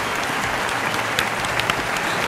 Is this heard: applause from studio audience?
yes